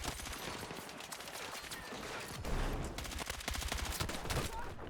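Dense gunfire in Battlefield 6 on the Mirak Valley map: sustained bursts and overlapping shots, loud and continuous, with heavier blasts partway through.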